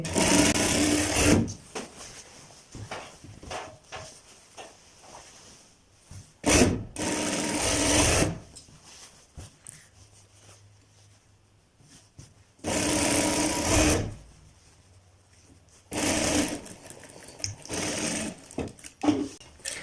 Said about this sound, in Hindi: इसके बाद दोस्तों हमारा जिस जगह पे कट है वहां तक हमने अपनी स्टिचिंग कर देनी है दोनों तरफ से